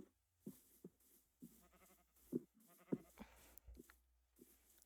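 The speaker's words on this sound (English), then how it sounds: "You're a brown sheep, but there are cows." Sheep in the Minecraft video game bleat several times at irregular intervals, each call short and fairly quiet, with brief gaps of near silence between them.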